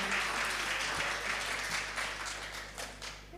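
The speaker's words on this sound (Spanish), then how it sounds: "Gracias, actores. Es un aplauso para nuestro..." Applause for the actors from an audience at a Spanish-language talk, a dense steady patter of many hands with a low hum beneath, fading slightly toward the end.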